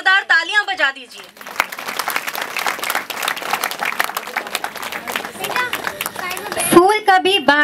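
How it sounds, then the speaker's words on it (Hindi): An audience claps loudly for the children at a school event: a dense burst of applause that rises, holds and fades. Speech comes before it and returns at the end. "इन बच्चों के लिए जोरदार तालियां बजा दीजिए।"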